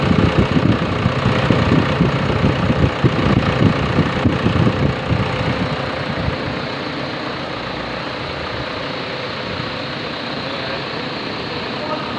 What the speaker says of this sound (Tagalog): Gawin muna natin yung makina.